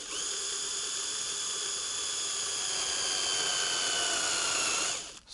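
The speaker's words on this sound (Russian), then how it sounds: "Нужно просверлить эти 4 отверстия." A hole saw bit in a cordless drill or drill driver cuts holes through a car bumper, boring through plastic and a layer of body filler in a steady, loud whine with strong harmonics that stops abruptly at the end.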